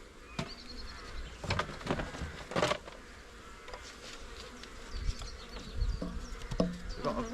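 Honey bees buzz around an open hive during spring checkerboarding, a faint, steady drone close by with brief thumps and knocks of hive parts.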